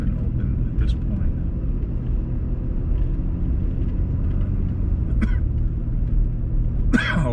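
A car drives slowly through a neighborhood battered by a hurricane, its steady low engine and road rumble running the whole time, with a few brief clicks and a sharp knock near the end. A person speaks now and then.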